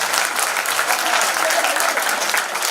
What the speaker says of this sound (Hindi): हाथ खड़े करके तालियां बजाओ एक बार जोरदार जरा।